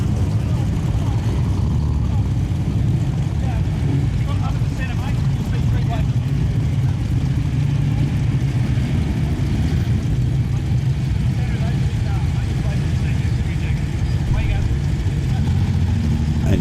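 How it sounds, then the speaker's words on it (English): A Holden LC Torana GTR drives in at a Toranafest car club display, its engine a steady low rumble beneath continuous talk throughout. "And here comes my favourite LC Torana of the Sydney Torana Club."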